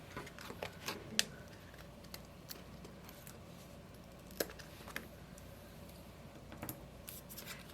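Scissors snip card stock at the corner of a handmade unicorn card, giving quiet, close, sparse clicks and short crisp cuts, with a few sharper snips spread across a near-silent background.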